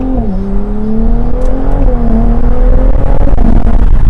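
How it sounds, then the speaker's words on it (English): A McLaren 750S or Ferrari 296 GTB V6 turbo supercar engine hums steadily at rising revs, its tone climbing slowly and holding loud and close throughout, with no voices. "I love the sound of this car, even though it's a V6 and people want to talk bad about it."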